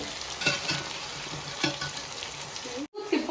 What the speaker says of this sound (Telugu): కొంచెం ఫ్రై అయిపోయింది కదా, ఇప్పుడు చికెన్ వేసుకున్నాం